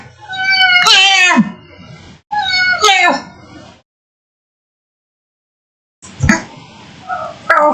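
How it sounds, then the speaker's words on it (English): A house cat meows loudly and close by, giving two drawn-out cries in quick succession and then a third after a pause, with no talking. "What are you meowing for?"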